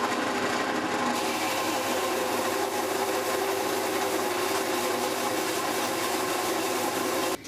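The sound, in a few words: sanding wood flat for a mill cabinet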